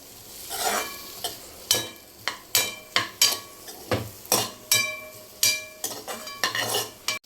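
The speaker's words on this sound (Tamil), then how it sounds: "இப்போ இதை நல்லா வதக்கி விடலாம் இந்த இந்த எண்ணெயிலே நல்லா ஃப்ரை ஆகணும்" Vegetables and noodles for fast-food style veg noodles being stir-fried in a little oil, with a utensil clanking against the pan in a steady series of sharp scrapes and knocks over a soft sizzle, close and fairly loud.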